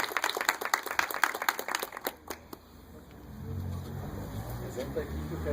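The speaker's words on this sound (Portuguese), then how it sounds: "uma salva de palmas para o Rogério e para o Marcelo." A short burst of applause from a small crowd at a Catholic Charismatic Renewal diocesan headquarters inauguration for about two seconds, then it stops and a low room rumble with faint murmuring follows.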